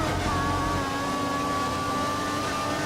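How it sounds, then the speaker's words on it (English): A Formula 1 car engine at full revs in the F1 2014 racing game, with the British round underway; a steady high-pitched whine holds alone and constant throughout with no voices over it. "We think the car behind is running on full revs."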